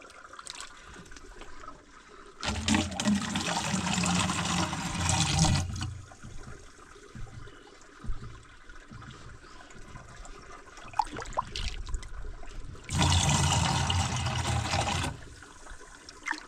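Water surges and gushes loudly in two strong bursts in a village setting, pushed up and flowing, with quieter trickling and dripping between the bursts.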